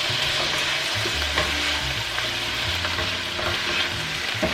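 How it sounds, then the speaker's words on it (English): Brussels sprouts sizzle steadily in a syrupy sauce in a hot pan, a continuous dense crackle broken by occasional scraping stirs, close and fairly loud with no talking. "I'm gonna bring over my Brussels sprouts. Toss those in the sauce."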